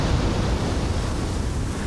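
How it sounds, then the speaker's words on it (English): Sea waves make a broad, constant rush of surf, fairly loud and unbroken, like water rolling in without any clear individual breaks or voices. "Is that what the sea sounds like?"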